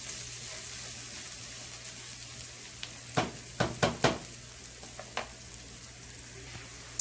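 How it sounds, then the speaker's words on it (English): Seasoned vegetables sizzle steadily in a hot pan while a few sharp scraping and clacking stirs break through the crackle, close and fairly loud, with no voices. "Give this a little stir."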